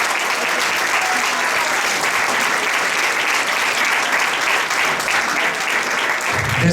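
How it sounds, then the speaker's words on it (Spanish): Loud, steady audience applause at an intercultural gathering, many hands clapping densely and continuously throughout without pause. "pediría también un fuerte aplauso"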